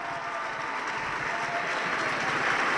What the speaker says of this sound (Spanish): Demos un fuerte aplauso para el tercer lugar